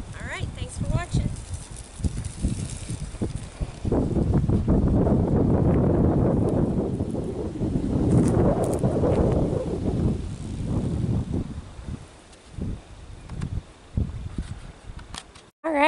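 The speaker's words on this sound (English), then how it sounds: "Boy, it's windy." Strong wind blows across an outdoor vegetable garden planted with onions, beans and corn, a loud gusty roar that swells through the middle and eases toward the end, with someone talking over it at times.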